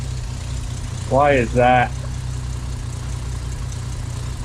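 A Jeep Wrangler engine with a vacuum line leak idles in a low, steady rumble that runs throughout, while someone briefly speaks over it.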